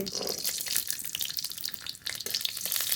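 Garlic frying in mustard oil in a wok, a dense crackling sizzle that runs steadily throughout, close and moderately loud with no talk.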